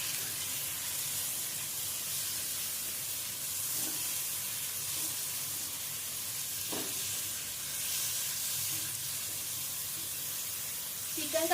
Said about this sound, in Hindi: हमने इसमें ऐड करना है 125 ग्राम चिकन और इसे भी हमने भूनना है।